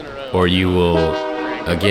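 A train horn blares at a disc golf course during the 2022 Savannah Open, a loud sustained tone that sounds, breaks, then returns briefly, heard under a commentator's talk.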